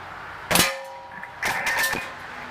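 A Xisico XSP180 .22 break-barrel spring piston air pistol fires once with a sharp, close metallic crack and ring, followed by a second brief clanking burst, no talk.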